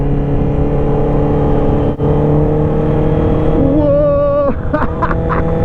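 Honda CB650R four-cylinder motorcycle with a full exhaust system, riding loud and steady throughout, with a brief surge in pitch near the end and a short exclamation from the rider.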